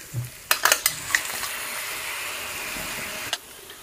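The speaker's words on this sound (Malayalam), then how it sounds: "കുക്കറിൽ അടിച്ച് വെച്ചിരിക്കുന്ന ചിക്കൻ ഇട്ട് കൊടുക്കാം." Pressure-cooked country chicken drops into a hot pan for a spicy Kerala curry, giving a few sharp clanks of a utensil against metal and then a sustained, fairly close sizzle of frying while it is stirred.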